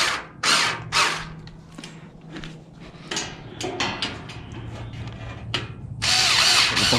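A power drill drives screws into a propane gas fire pit during assembly, whirring in several short bursts of varying length with pauses and clicks between them, close and fairly loud.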